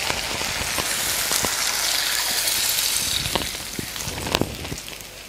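Water poured into a pan of fried vegetables rushes and splashes with a loud, gushing hiss that settles into sputtering bubbles and faint clinks.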